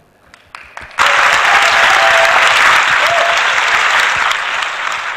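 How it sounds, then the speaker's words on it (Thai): A few scattered claps start, then a large audience bursts into loud, dense applause in a reverberant hall, holding strong for several seconds before easing slightly. "ไอ้เสียงสะท้อนการปรบมือมันเกิดขึ้นได้ขนาดยังไง"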